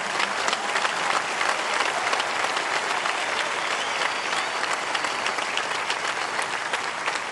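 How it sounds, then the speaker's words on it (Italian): Large crowd applauding steadily at a Rome gathering in 2018 celebrating 50 years of the Neocatechumenal Way, a dense, even roar of clapping that stays loud throughout with no break. "Un applauso a 50 anni."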